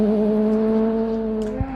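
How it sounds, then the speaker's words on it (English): A rally car engine with a close-ratio sequential gearbox holds a high, steady rev with strong harmonic drone during a New Zealand rally, loud and close, no talking. "These cars have a special sequential gearbox, close ratios, keeps them high in the revs"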